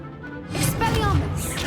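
A Stupefy spell cast in the Hogwarts Legacy video game: a shouted incantation with a brief whooshing magical burst, then a second crackling flare, over a steady background of combat ambience.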